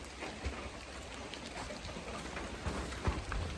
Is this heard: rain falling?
yes